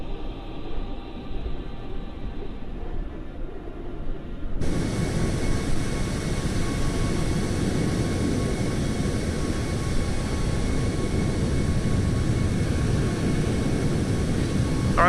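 An aircraft flyby in Microsoft Flight Simulator over the Australian Outback: a steady engine drone that suddenly jumps to a louder, brighter roar and holds there without fading.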